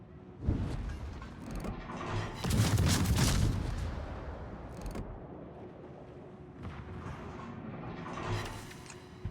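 World of Warships naval battle game with torpedo and gunfire explosions: a few deep booms and bursts of firing come and go at moderate level, with quieter rumbling between them.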